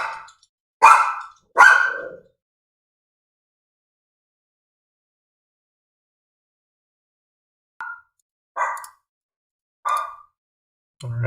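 A dog barks in short sharp bursts, three quick barks, a long silence, then four more evenly spaced barks, close and alone.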